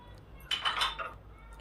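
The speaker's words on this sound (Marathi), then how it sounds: "तर आता छान हे मिक्स करून घेते पीठ" A spoon mixes dosa batter with chili and spices in a bowl, giving a brief patch of soft clinks and scraping that lasts about a second before fading.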